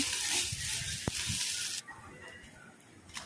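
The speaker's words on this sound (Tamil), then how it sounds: "ஒரு சின்ன கைப்பிடி பூண்டு, ஒரு 5-6 சின்ன வெங்காயம் எல்லாம் போட்டு வதக்கிக்கணுங்க." Garlic, shallots and curry leaves sautéing in oil in a pan for a fish curry, a bright hiss of frying with a few soft stirring knocks, the sizzle dropping sharply partway through.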